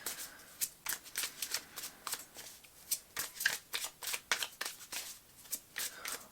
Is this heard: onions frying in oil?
no